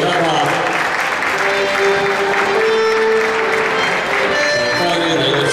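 Sustained applause for the first-place winner of a children's category at an awards ceremony, steady clapping from a crowd filling the room with some voices mixed in.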